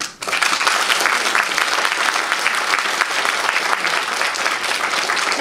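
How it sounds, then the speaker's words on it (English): A graduation ceremony audience for a law degree applauds, dense sustained clapping from a large crowd that starts abruptly and continues strongly without pause. "I also want to especially use your applause to thank our administrative staff, Ms. Priscilla Wong,"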